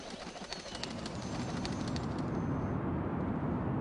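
Pigeons coo and flutter against a steady, rushing background noise, with the calls fairly faint and the noise dominating.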